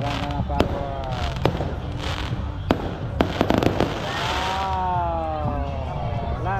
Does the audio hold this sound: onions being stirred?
no